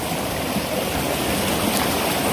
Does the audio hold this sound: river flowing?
yes